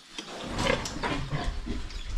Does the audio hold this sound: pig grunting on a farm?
yes